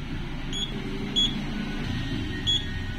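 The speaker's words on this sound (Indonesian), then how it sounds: "Untuk indikator beep-nya terdengar." Three short, high electronic beeps from an ICA CT382B UPS that will not charge sound at regular intervals over a faint steady hum.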